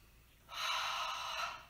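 A single long, steady exhalation during a posture exercise, starting abruptly and holding for over a second as a close, breathy rush of air.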